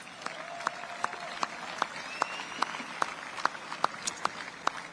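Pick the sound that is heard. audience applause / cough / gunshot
audience applause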